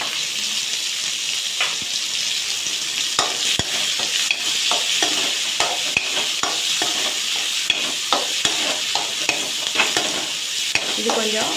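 Two chopped tomatoes fry in a pan after onions have softened, a steady bright sizzle with repeated scraping clicks of a spoon stirring them, close and continuous without speech.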